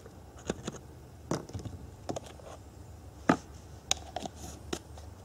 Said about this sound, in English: I'm going to use this screen to break up all the clumps